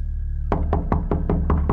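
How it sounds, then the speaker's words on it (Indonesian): Knocking on the door of a house, seven firm, evenly spaced raps ringing out close and loud after a brief low hum, with no voices. "Ketukan di pintu rumahnya semakin keras."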